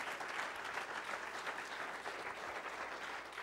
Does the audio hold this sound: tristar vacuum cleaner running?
no